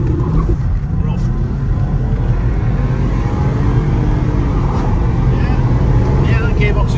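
A Jaguar S-Type 3.0 V6 in sport mode with traction control off accelerates, its engine a loud, steady drone from inside the cabin, with speech heard over it.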